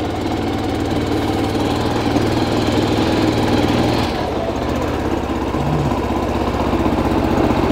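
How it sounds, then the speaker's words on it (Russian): MTZ Belarus 152N compact tractor engine running in second gear, a loud, steady, throbbing putter that holds constant throughout with a brief dip in the middle. "Сейчас я включу только помощнее какую-нибудь передачу, вторую, а то слишком медленно он ездит."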